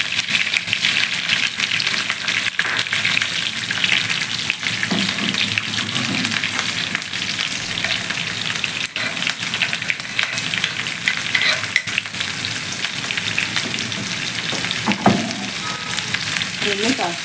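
Dried red chillies, green chillies and garlic fry in hot oil with a loud, dense, continuous crackling sizzle, close and unbroken throughout.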